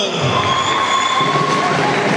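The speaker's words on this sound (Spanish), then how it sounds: "vamos a regalarle el aplauso, por favor, a Hilda Noemí Campos Gomán" Pageant audience fills the room with steady, dense applause and crowd noise at a beauty contest, loud and sustained from start to finish, with a faint tonal hum running underneath.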